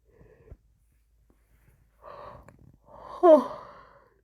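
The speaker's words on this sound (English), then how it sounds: "I'm not meaning to yawn." A drawn-out yawn with a rising, strained vocal stretch near the end, preceded by faint breaths; quiet and close, no talking.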